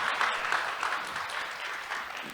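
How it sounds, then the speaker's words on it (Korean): An audience claps at a public talk with a government minister, a steady, fairly loud round of applause that continues evenly without speech. "들어주신 모두에게 박수를 부탁드리고요."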